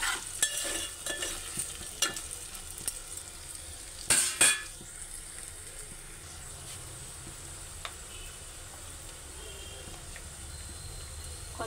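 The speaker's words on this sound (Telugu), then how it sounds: "వేగిన బెండకాయలు ఇలా సిమ్లో మగ్గనిద్దాం" Sliced okra sizzles steadily in a hot pan as a spoon stirs and scrapes through it, with a few louder clanks early on before the frying settles into an even hiss.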